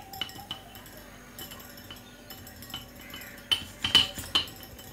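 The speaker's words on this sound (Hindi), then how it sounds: "शीरे को डालने के बाद इसको मैं मिक्स कर दूँगी।" A spoon stirs syrup into yogurt in a bowl for chana chaat, producing soft scraping and a cluster of bright clinks against the dish, close and clear, loudest near the end.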